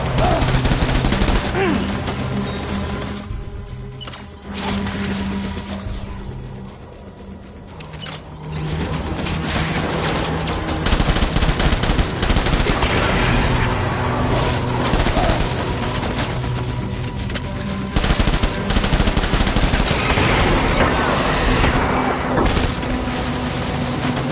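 Sustained volleys of gunfire and machine-gun bursts in the game Death Stranding, loud and dense across the whole stretch, with booms and shouted voices mixed into the chaotic firefight.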